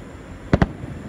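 Two quick, loud Fourth of July firework bursts in 2016 pop in close succession against a quiet background hum.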